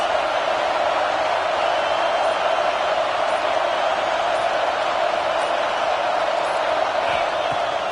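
A steady, dense roar from a packed football stadium crowd during a Nebraska vs Ohio State college game fills the whole stretch, loud and unbroken.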